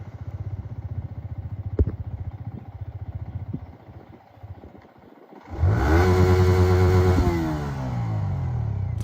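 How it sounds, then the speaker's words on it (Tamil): A Yamaha R15 motorcycle engine idles with a steady low putter, then jumps into a loud, close rev that holds high and eases back slightly, with no talk over it. "வீடியோக்குள்ள போறதுக்கு முன்னாடி வண்டியோட சவுண்டு கேட்டுவாங்க"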